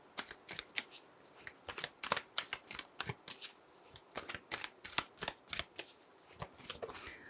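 Animal oracle cards are shuffled by hand in rapid, crisp riffling bursts that come in an uneven rhythm, close and clear, with no talking.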